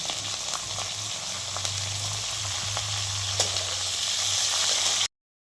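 Garlic, green chili and spring onion sizzling in a pan for eggplant bharit, a steady close frying hiss with a few soft stirring ticks and no talk, cut off abruptly at the end.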